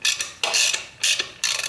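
A ratchet working Torx bolts loose from the front fender of a Harley 48, close bursts of rapid buzzing clicks repeated four times with short pauses between strokes.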